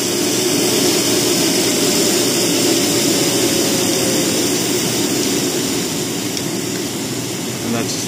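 A Lux Platinum vacuum cleaner runs on high speed with a loud, steady, close roaring whine that holds throughout and eases slightly toward the end.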